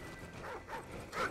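Riley the dog in Call of Duty: Ghosts gives a few faint, short whines and yips, quiet and close, with no talking.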